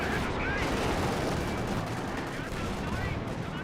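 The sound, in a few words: gunfire from the video game Company of Heroes 2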